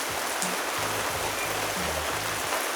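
Rain falls steadily outside as a dense, even hiss of constant noise, fairly loud and unbroken, with no voices over it.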